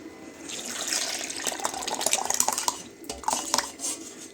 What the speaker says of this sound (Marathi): आता टाकूया याच्यामध्ये ताक